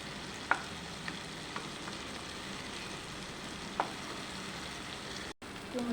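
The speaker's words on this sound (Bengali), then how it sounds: "কুমড়ো ভাজা হয়ে গেছে" Pumpkin pieces frying in a pan, a soft steady sizzle throughout with a few light taps of a utensil, briefly cutting out near the end before resuming.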